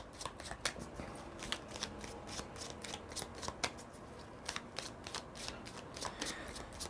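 Lenormand card deck being shuffled close up, a steady run of rapid crisp riffling snaps and soft papery flutters, repeating throughout without pause and with no voices.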